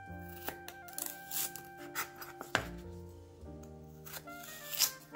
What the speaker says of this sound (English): So what I'm going to do is cut the ends off of this. Okay, and slice this.